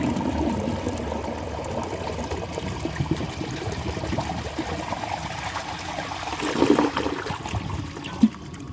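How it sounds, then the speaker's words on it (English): A 1983 Universal Rundle Atlas toilet flushing, a steady close rush of draining and trickling water that swells slightly near the end with a small clunk. "So I'm just gonna give it another flush and see if it takes this."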